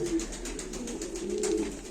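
Pigeons at a pigeon auction, a low steady cooing hum that runs throughout at moderate loudness with faint background noise and no talk.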